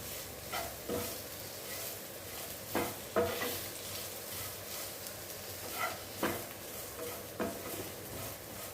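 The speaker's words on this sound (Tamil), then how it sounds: "இது இன்னும் வதங்கட்டும்." Food sautés quietly in a pan, with a soft continuous sizzle and several brief stirring scrapes spaced a second or two apart, faint and close.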